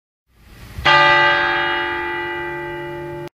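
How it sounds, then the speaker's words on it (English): A video game doorbell, from Bully, strikes loudly as a single bell-like chime and rings out with a sustained, slowly fading harmonic tone, cut off abruptly after a few seconds. "I'm going to ring the doorbell."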